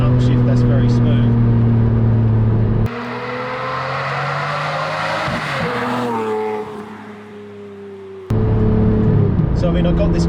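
A Lamborghini Murcielago LP670-4 SV engine revs hard through a smooth upshift, a loud, close roar whose pitch climbs, drops at the gear change and climbs again, with no talk over it.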